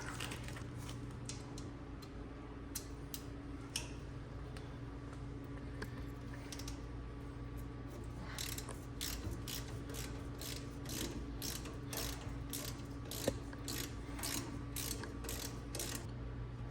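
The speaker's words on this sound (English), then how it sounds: "Now I'm going to use the 3/8 ratchet." A 3/8-inch ratchet works on the coil-over suspension of a 5th-generation Toyota 4Runner, giving bursts of rapid clicking close by over a quiet garage hum.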